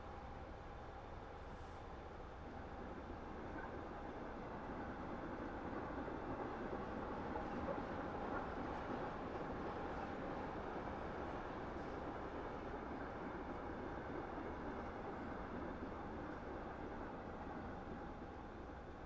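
A Southern Pacific GS-4 freight train with piggyback flatcars, reefers and a caboose in a train simulator, rolling as a steady, continuous rumble with rail noise that holds level throughout, no voices.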